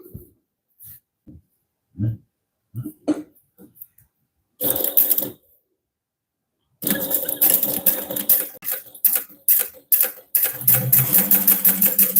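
Sewing machine running on a modified Schmedium Transponster project, stitching in short stop-start bursts that build to longer steady runs, close and clear with no talk over it.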